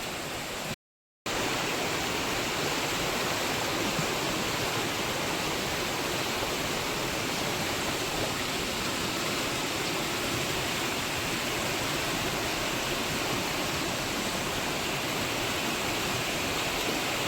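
A river stream during the monsoon rushing steadily under a small bridge, a dense continuous roar of flowing water close by, with a brief dropout near the start.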